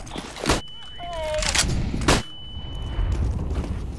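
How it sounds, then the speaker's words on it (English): In a Counter-Strike match on the Mirage map, sharp gunfire bursts crack close by amid game effects and a high ringing tone suggesting a flashbang, with voices talking over the action. "Flashbang out!"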